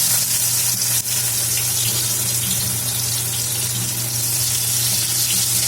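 Boiled raw jackfruit pieces roast in hot cooking oil, giving a loud, dense, unbroken sizzle and crackle throughout, close up, with one brief dip early on.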